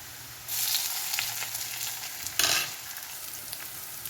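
Ginger-garlic paste dropped into a pan with browned coconut for a beef curry, bursting into a bright, steady sizzle that flares briefly near the end, close and without talk.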